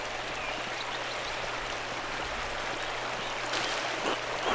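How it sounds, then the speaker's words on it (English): A waterfall in the video game Pentiment rushes steadily, a dense, even wash of falling water with no voices, holding at a constant level throughout. "The waterfall must flow down from the snowmelt into the mountains of the Abbey"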